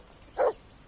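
A single short dog bark or yip from the companion dog in Kingdom Come Deliverance II, one brief mid-pitched burst standing out clearly over a faint background hum.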